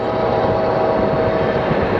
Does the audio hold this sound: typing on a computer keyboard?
no